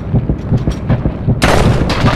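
Rapid, punchy gunfire in a steady rhythm, then a louder sharp headshot blast near the end that rings out bright and harsh, like game weapons firing up close.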